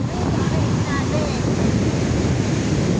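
Ocean waves surging up to a beach resort, a loud continuous churning roar of surf mixed with wind buffeting the microphone, with faint voices in the background.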